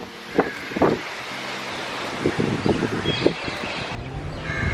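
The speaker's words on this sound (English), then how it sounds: "It's so windy outside," Strong wind roars steadily outdoors during rain, a broad rushing noise with gusty bursts and buffeting against the microphone, loud and continuous throughout with no talk.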